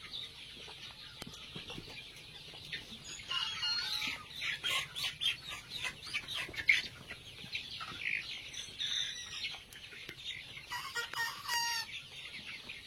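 Chickens on a poultry farm eating grain, with a dense layer of clucking and rooster calls, busy bird chatter rising and falling near the microphone, and occasional wing flaps, no talk.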